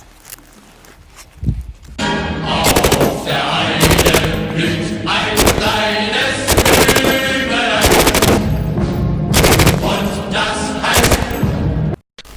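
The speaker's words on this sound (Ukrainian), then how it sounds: "This is machine gun!" Loud bursts of automatic gunfire from an FN Minimi machine gun rattle out in rapid strings, separated by short pauses, close and harsh with a ringing tail.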